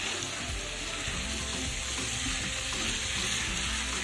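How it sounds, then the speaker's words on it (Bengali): Fried shrimp and shola kochu slowly sautéed with spices in a pan, a constant close sizzle with intermittent spatula scrapes and stirring, no speech. "এবার সবটা মশলার সাথে প্রথমে মিশিয়ে দিতে হবে, আর তারপর আরও বেশ কিছুক্ষণ ধীরে ধীরে কষিয়ে নিতে হবে।"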